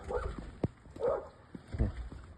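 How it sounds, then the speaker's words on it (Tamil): A neighbour's dog barks a few times from next door, each short bark fairly distant and faint, spread irregularly over a quiet background. "பக்கத்து வீட்டில் ஒரு நாய் என்னை பார்த்துட்டு குறைக்குது"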